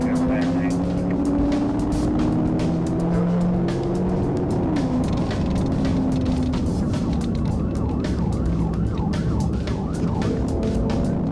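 Cars race along a road in a police chase, engines droning and revving with shifting pitch, tires and passing traffic adding sharp bursts, loud and continuous.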